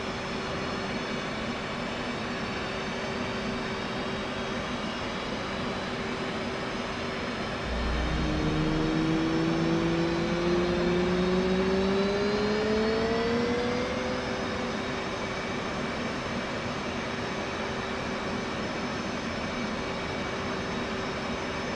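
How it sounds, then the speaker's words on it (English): A jet engine spools up during startup in a flight simulator game, a rising whine climbing in pitch over a steady background hum, with a low rumble swelling midway and then easing as the engine settles. "This will add fuel to the engine and start the igniters."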